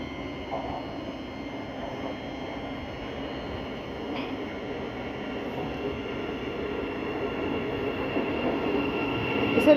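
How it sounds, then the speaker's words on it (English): An 8-car train from Three Bridges rumbles steadily at close range, the low mechanical roar building louder toward the end as it pulls into the platform. "You have a train from Three Bridges arriving in."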